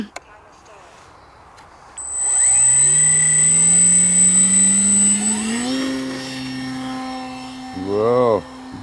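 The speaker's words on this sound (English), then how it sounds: "So let's get this plane up in the air." An FMS Piper J3 Cub RC model plane throttles up for takeoff on grass, its electric motor rising into a loud, steady whine that wavers in pitch, then eases off and surges again near the end.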